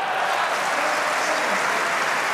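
Loud, sustained applause from an arena crowd at a 2011 German Open table tennis semifinal, a dense, even clapping roar filling the whole moment without pause.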